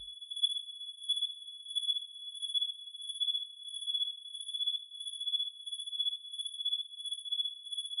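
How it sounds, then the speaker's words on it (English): Synthesized cricket chirps built from free modules in VCV Rack ring as two thin, high steady tones with a fast, pulsing rhythm, softened by reverb so they seem distant and faint. "it sounds like you hear a distant set of crickets"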